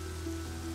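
Steady rain in the survival game Rust, a continuous, even hiss of falling water with a low ambient hum underneath, no voices present.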